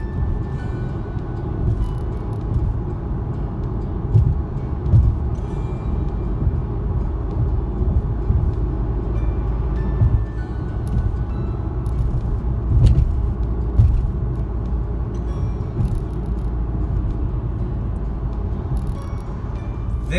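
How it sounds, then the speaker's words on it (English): A car cruises eastbound on the I-84 highway through Danbury, a constant loud road and engine rumble with tyre roar and a few passing swells, with no one speaking. "We are driving through Danbury using I-84 and we are heading eastbound."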